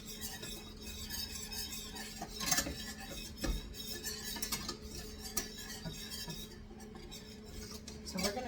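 Flour stirred and cooked in two tablespoons of oil or meat drippings in a pan for lamb meatball gravy, a soft steady scraping and stirring with occasional utensil clinks against the pan.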